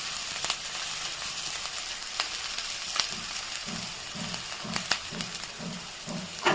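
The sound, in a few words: chopped green chilli being stirred and fried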